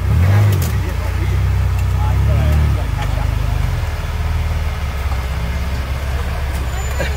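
A dune buggy's engine revs and rumbles loudly with a deep low growl as it drives off, the throttle swelling then easing into a steady drone, with voices talking over it.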